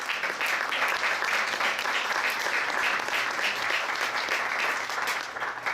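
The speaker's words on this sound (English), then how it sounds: "Let's give them a big round of applause." A baseball crowd applauds first responders and veterans before a high school game, with steady, dense clapping that holds at an even level for the whole stretch and fades slightly only at the end.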